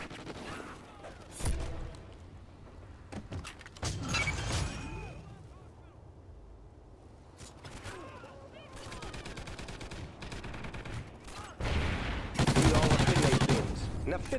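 A sentry gun fires in a multiplayer shooter match, sounding as rapid bursts of automatic gunfire with sharp loud volleys in several clusters, some closer and heavier near the end, mixed with other game sounds.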